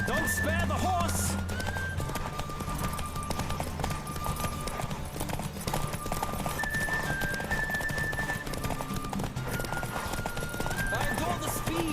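Horse from The Witcher 3: Wild Hunt galloping with steady rapid hoofbeats and a whinny, heard over game music and character voices.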